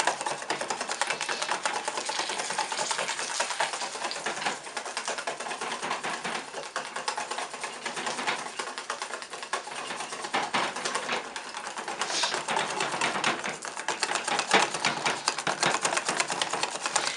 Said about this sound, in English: I'm starting to clean the bottom when I whisk